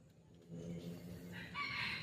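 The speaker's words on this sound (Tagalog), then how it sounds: "Ang ganda pa naman ng tilaok niya." A free-roaming rooster crows at a distance, the call rising and drawn out over a faint, steady outdoor background.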